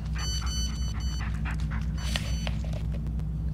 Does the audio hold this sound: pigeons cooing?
no